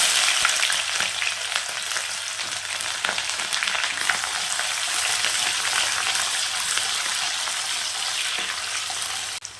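Mustard seeds, urad dal, curry leaves and shallots fry in hot oil for a brinjal kuzhambu, giving a loud, steady, dense crackling sizzle that runs without a break and with no talk.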